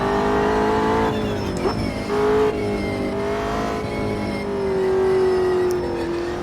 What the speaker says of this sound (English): Nice to be able to look behind as I'm reversing.